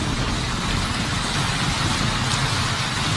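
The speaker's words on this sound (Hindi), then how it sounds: "ये बारिश" Rain pouring on a wet night, a steady dense hiss of drops that stays even and fairly loud throughout with no voices.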